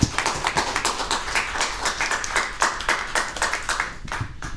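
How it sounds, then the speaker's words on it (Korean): A lecture audience gives thanks with applause, a dense patter of many hands clapping at close range, steady throughout with a slight rise and fall in intensity. "오늘 강연해 주신 지강철 선생님께 큰 박수로 감사를 전합니다."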